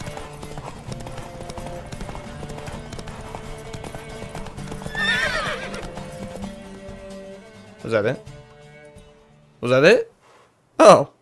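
A horse in The Witcher 3 video game gallops with rhythmic hoofbeats under background music and speech, then gives several loud, separate whinnies close by near the end.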